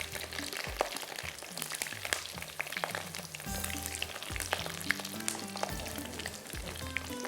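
Chicken deep frying in hot oil for chili chicken, a steady dense crackle and sizzle with scattered pops, moderately faint and continuous throughout, with occasional low thuds from the pan.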